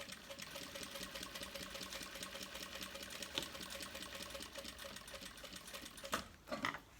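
A sewing machine runs a steady, rapid stitching rhythm while topstitching around the frame of a handmade bag, then breaks into a couple of short bursts as the work is turned near the end.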